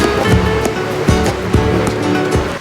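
Strong wind and surf on the beach at Sitges, a loud continuous roar of waves with gusts buffeting close by and a few rhythmic thumps as the wind catches something nearby.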